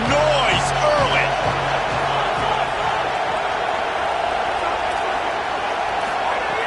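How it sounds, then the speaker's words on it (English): A football stadium crowd roaring steadily and loudly with scattered whoops, while a commentator's voice carries over the top. "This crowd bringing the energy and noise early."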